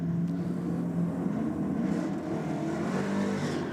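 Tough Holden cars at a drag racing start rumble and rev in the distance, a continuous engine roar with swells, heard fairly faint with crowd-like ambience and no clear speech.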